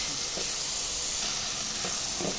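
Tomatoes and bitter gourd sautéing in a pan give a steady, even sizzle with faint stirring scrapes, heard alone at a moderate level.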